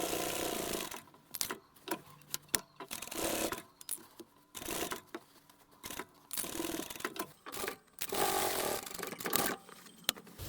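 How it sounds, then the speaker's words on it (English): Sewing machine running a narrow top stitch around the openings of a simple tote bag, quiet stop-start whirring in short bursts mixed with clicks and fabric handling, close by. "So let's take that back to the machine and we'll just sew those 2 openings."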